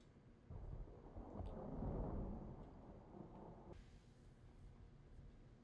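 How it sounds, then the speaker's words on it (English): Thunder rumbles through a TV drama scene, a deep swelling roll that peaks and fades over steady rain hiss, with a sharper crack of noise near the end; no voices. "Bad luck, Atlanta weather, Atlanta rain."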